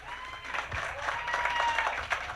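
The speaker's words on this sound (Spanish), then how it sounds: "un aplauso para todos ustedes" Applause from the audience at a live year-end variety show gathering, a steady wash of many hands clapping that holds at an even level for a couple of seconds.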